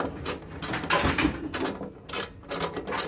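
Screws being tightened on the fuel pump of a 2002 Honda VTX 1800S during a rebuild, heard as close, repeated ratcheting clicks in short bursts, with mechanical scraping between them.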